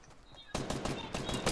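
Gunfire in the Fortnite battle royale video game: after a quiet moment, a loud burst of rapid shots erupts and continues in quick broadband cracks through the rest of the clip.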